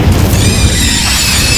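The Incendio fire spell from Hogwarts Legacy bursts out as a loud, close, continuous roaring boom with a rushing, whooshing top, filling the whole short moment.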